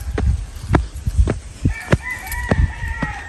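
Chickens cluck in short bursts close by, and a rooster crows partway through with a drawn-out call.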